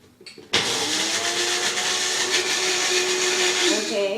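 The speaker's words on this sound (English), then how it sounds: "I'm going to take an egg, and a whole egg, and I'm going to put it in my magic bullet" A Magic Bullet blender whisks a whole egg, starting abruptly and running as a steady, loud, close motor whir for several seconds.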